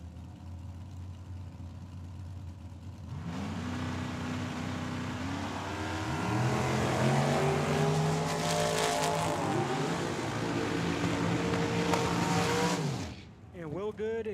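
Drag race at Tucson Dragway, a dragster against a Chevelle with the Chevelle leaving early: loud engines rev and launch down the strip, roaring for about ten seconds under an announcer's commentary before cutting off.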